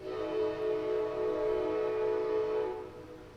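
A passing train sounds a loud, sustained horn with rich layered tones that hold steady, then fade toward the end, with no talking over it.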